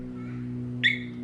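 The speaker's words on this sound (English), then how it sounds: "That's the alarm beeping" A single short electronic beep from a Yamaha R1 motorbike's alarm rings out over a low steady hum, brief and fairly clear.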